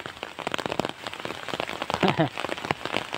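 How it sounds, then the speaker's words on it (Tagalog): Heavy rain pouring steadily, a dense broadband patter with sharp drop impacts close by, heard from under an umbrella, while a voice briefly speaks over it in Tagalog. "Kaya lang bumuhos naman yung ulan."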